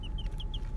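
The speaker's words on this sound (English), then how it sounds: "I have 2 silky roosters. I have 3 kosher roosters." Short clucking calls from roosters, including Silkie roosters, in a farmyard: four brief high chirpy clucks spaced evenly over steady low background noise, fairly close and moderately loud, no speech.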